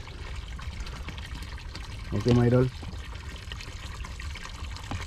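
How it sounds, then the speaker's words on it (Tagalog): Water scooped from a container at an outdoor water-fetching spot in Canada, a short splashing pour burst in the middle amid steady background noise, with someone talking briefly. "yung pag salok-salok ng tubig"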